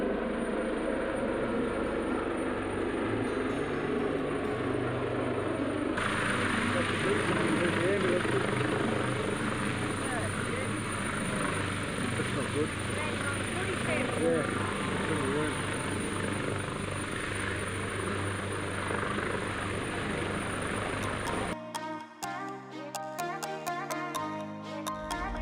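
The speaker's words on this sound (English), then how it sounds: "the silence was broken by the sound of a rescue helicopter as it landed in the oval adjacent to us" A rescue helicopter lands on an oval next to the listener, its steady rotor thrum and turbine whine loud and continuous for about twenty seconds before giving way to music; talking is heard under it.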